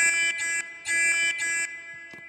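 Fire alarm in a Roblox mansion sounding in loud, shrill electronic pulses, three bursts with short gaps between them, close and clear with nothing else audible.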